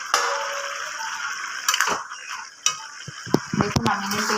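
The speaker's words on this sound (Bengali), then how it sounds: "ঢাকনাটা খুলে দিচ্ছি" In a kitchen where bottle gourd shukto is cooking, a lid comes off the pot with a scatter of metallic clinks and clanks over a faint background sizzle.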